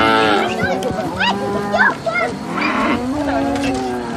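A calf moos in several drawn-out, wavering calls at a Himba village, loud and close, with voices and other livestock sounds mixed in around the lowing.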